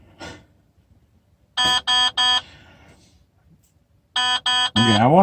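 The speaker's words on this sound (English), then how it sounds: "Now we have this pleasant low-key beeping." Warning beeps inside a heavy-haul truck cab after the key is turned, two bursts of three sharp, evenly spaced beeps separated by a pause, loud and close, with someone speaking around them.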